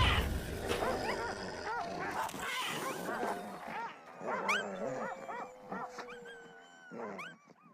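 Hungry hunting dogs on a scent give repeated barks, yelps and whimpers, loud and close at first and thinning out later, mixed with other wild animal calls.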